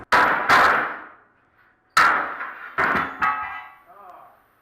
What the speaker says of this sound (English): We should be able to knock it loose with a hammer